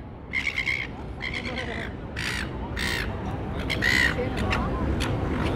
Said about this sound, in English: Those birds are singing to you.